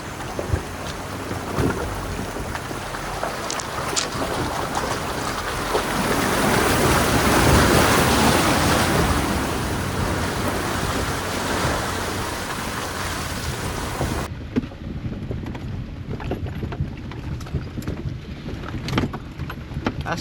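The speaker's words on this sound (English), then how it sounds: "this is our last water crossing of the trip" A vehicle rumbles through an off-road water crossing on a trail in the Ozarks, with heavy splashing and sloshing swelling midway before easing to a quieter engine drone and trickling water.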